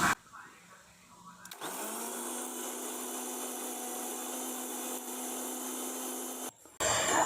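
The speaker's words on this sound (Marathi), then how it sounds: "परत मिक्सर लावून घेते." A kitchen mixer grinder blends black masala paste with added water for a mutton curry, a loud, steady motor whir that kicks in abruptly, runs about five seconds and cuts off, with talk before it starts.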